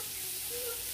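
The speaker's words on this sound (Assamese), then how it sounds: "এতিয়া মাছখিনি মই অকণমান ভাজি ল'লোঁ পিঁয়াজৰ লগতে" Dry fish and onion fry in a little oil, giving a close, steady sizzle that holds without a break.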